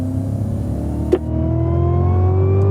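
A 2016 Cadillac CTS-V on a race circuit, engine note climbing steadily as it accelerates, loud and close, with a brief sharp knock just past one second.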